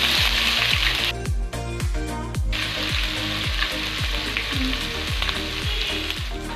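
Ginger garlic paste sizzles loudly in hot oil for a chicken biryani, a dense steady frying hiss with repeated low thumps of a spoon or pan being worked, no voices.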